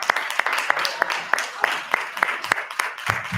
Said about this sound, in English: Let's all give Miss Stephanie a round of applause